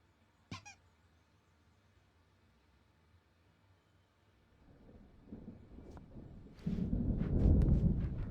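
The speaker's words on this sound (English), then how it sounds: "There's a storm coming. Oh, what a storm." A thunderstorm in Alan Wake opens with a sharp crack, then quiet, before a low rumble swells and breaks into a loud, heavy roll of thunder that keeps building toward the end.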